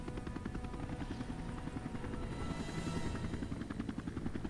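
Helicopter in the video game Shadow Harvest, its rotor thumping fast and steady with a buzzing engine drone, loud and continuous with no speech.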